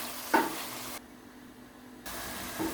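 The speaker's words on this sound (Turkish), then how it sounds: "Soğanla beraber 3-4 dakika kavuralım." Eggplant, garlic and onion sauté in a pan with a soft, steady sizzle and light stirring, with brief clinks near the start and a quiet pause in the middle.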